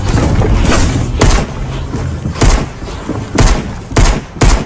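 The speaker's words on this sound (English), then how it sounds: "Oh, I'm getting shot at here." Gunfire in the Fortnite battle royale game: a string of sharp, loud shots at uneven intervals, with about seven distinct bangs cracking over a steady background of game noise.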